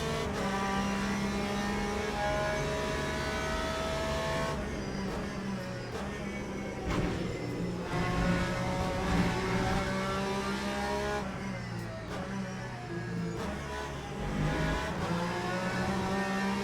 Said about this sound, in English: Porsche just slides so smoothly. Incredibly smoothly around the Dunlop curves.